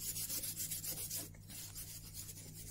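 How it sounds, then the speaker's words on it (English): Close, steady rubbing on the brass fittings of a period camera plate holder during French polishing, a soft continuous scratchy friction that runs throughout with a brief dip midway. "Let's just give it a good rub around."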